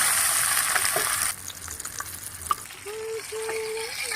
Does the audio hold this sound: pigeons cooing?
no